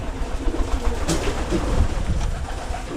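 Young racing pigeons give low soft coos in a loft, close and somewhat muffled, with a faint flutter and background hum.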